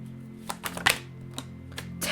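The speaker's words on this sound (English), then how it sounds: "let me just stop shuffling for a second." Tarot cards riffled and shuffled by hand in short papery bursts, several quick clusters of crisp flicks with brief pauses between, close and fairly quiet.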